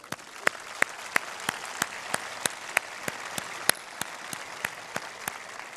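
Sparse, slow clapping from a few people at a graduation ceremony, sharp individual claps spaced evenly over a quiet room tone.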